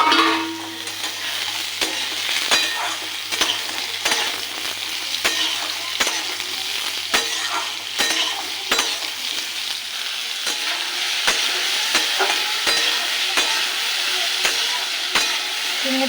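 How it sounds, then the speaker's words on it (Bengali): Ridge gourd frying in a pan with potatoes: a steady close sizzle runs throughout, punctuated by regular scraping strokes of a spatula roughly every second, with no voices. "ঝিঙেটা একটু ভেজে নিয়েছি"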